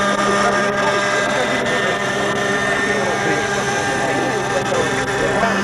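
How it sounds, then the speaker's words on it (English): Helicopter towing a banner above a 1985 world championship RC car racing event near the Disney World parking lot, a steady loud engine drone and rotor rumble that runs without break. "This helicopter is displaying a banner for this World Championship event."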